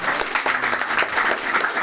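Applause from an audience at an inauguration ceremony for an organisation's board in Lampung, a steady mid-level wash of clapping lasting under two seconds.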